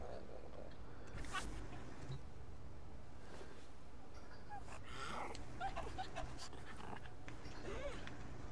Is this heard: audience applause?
no